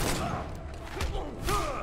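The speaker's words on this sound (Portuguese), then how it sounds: "dá pra dar tiro do alto também" Sharp bursts of gunfire from the fighting game Injustice crack out over a dense, noisy game soundtrack, a couple of shots standing out.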